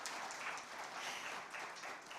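An awards-evening audience applauds to welcome a government minister, steady dense clapping filling the room from start to finish with no talk.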